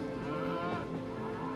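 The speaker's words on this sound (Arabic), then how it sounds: "هذا صوت البقرة طبعا" A cow moos in one long, drawn-out, fairly loud low call that fills the whole moment, with no speech or other sounds over it.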